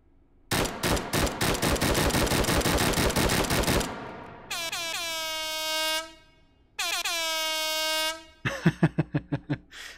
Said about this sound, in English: the MLG air horn